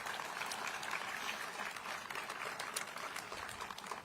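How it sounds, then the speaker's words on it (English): An audience at a Gateway funding agreement signing applauds Senator Kirsten Gillibrand, with a continuous, moderately loud patter of clapping filling the whole moment. "Let's have a round of applause for her."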